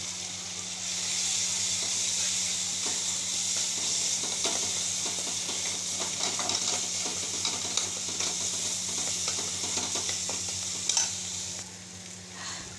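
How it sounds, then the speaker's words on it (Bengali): Spice masala with cumin powder fried and stirred in a pan for dhoka curry, a long steady sizzle and hiss with repeated spatula scrapes building toward the end, close by and without speech. "মশলাটা ভালো করে কষিয়ে নিয়েছি"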